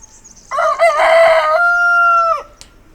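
A rooster crows once, loud and close, a long drawn-out call of about two seconds at a farmyard chicken coop during feeding time.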